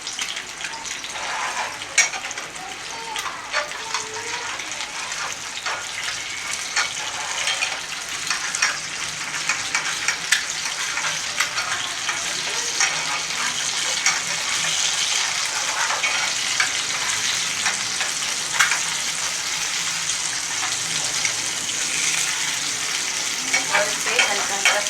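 An egg fries in hot ghee in a pan, crackling and sizzling steadily and close up for the whole stretch, with small spitting pops throughout and no talk over it.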